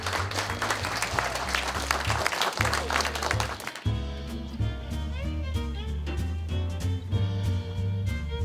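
Audience applause at a snow festival held at a roadside station in Shokawa, a soba-growing village: dense clapping for the first few seconds over low music, then fading as music and talk carry on.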